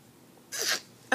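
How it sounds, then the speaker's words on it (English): A single short sneeze from a woman indoors, sharp and close, standing alone against quiet room tone, with a small click right after. "I feel like I'm going to sneeze."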